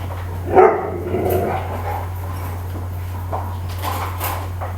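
A dog gives one sharp, close bark near the start, followed by quieter rustling and handling noises over a steady low indoor hum.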